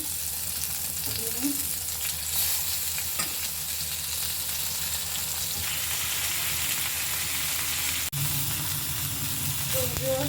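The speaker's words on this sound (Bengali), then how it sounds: "এবার আমি বেগুন ভাজি করে নিচ্ছি, বেগুনের টক ভাজি।" Steady crackling sizzle of eggplant frying in a hot pan, continuous and close, with occasional stirring scrapes and no talking.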